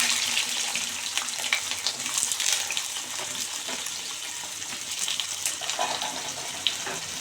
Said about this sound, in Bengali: আলুগুলো ছেড়ে দেবো